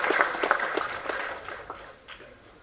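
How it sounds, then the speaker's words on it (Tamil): Audience clapping at a film event, a short scattered round of applause that starts lively and fades away within a few seconds. "ஸோ கொள்ளு பேரனுக்கு ஒரு கைத்தட்டு"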